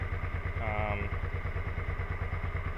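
A 2002 Suzuki SV650 motorcycle engine with a running fault idles steadily at 1,000 rpm, its low rhythmic chugging continuous throughout, with a brief voice-like tone rising over it early on.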